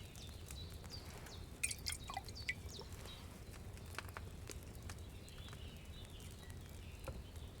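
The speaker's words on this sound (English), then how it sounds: "Get a phial and pour it in." Potion decanted from a cauldron into a phial in Kingdom Come Deliverance 2: faint, quiet dripping and light liquid patter, with a few small splashes clustered early, over a soft low background hum.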